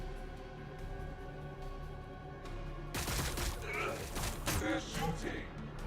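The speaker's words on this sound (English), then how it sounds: "They're shooting." Gunfire breaks out in a Warhammer 40K Battlesector battle, a dense rattle of rapid shots arriving suddenly partway through after a quieter droning stretch, with a voice talking over it.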